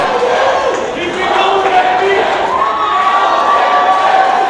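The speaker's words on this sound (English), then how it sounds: "The crowd is on fire for him. They're going crazy" A wrestling arena crowd at a rumble event roars and cheers loudly and continuously, a dense wall of shouting voices with a commentator's voice faintly underneath.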